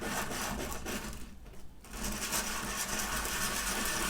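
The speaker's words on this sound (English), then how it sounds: "Got a little sanding disc here, and all you need to do is place it on the sandpaper." A small sanding disc rubbed back and forth on sandpaper to strip chrome from an M50/M65 part, giving a steady, close abrasive scratching that briefly softens midway before resuming.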